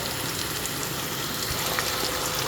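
Spice mix for chop filling sautéing in a pan, a dense, even hiss of sizzling that fills the short stretch without pause, close and fairly loud, with no voices.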